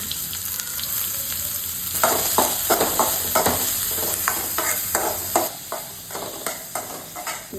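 Mustard seeds with crushed ginger and garlic frying in coconut oil for a Kerala lobster dish, a loud continuous sizzle with rhythmic stirring scrapes and taps of a spoon against the pan.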